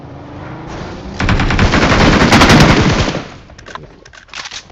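Rapid automatic gunfire from a BGMI mobile battle game, a loud sustained burst of shots lasting about two seconds, then tapering into scattered shots and faint game noise, with no talk.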